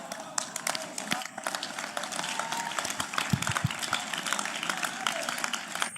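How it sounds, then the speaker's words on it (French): Scattered applause from one section of a church congregation in Accra, Ghana, sparse and fairly faint, with uneven claps and a few sharper thumps, and talking underneath. "Seule cette section ici applaudit tout cela."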